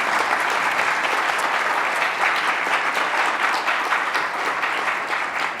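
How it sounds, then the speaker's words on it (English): Conference audience applause for speakers at a clinical drug development session, a dense, even clapping of many hands held steadily for several seconds at moderate level without talk. "if we can give them a round of applause."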